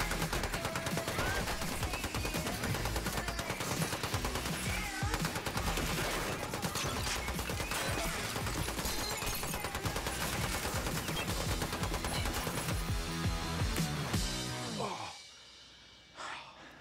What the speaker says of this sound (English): This machine gun fires at a rate of 800 rounds per minute.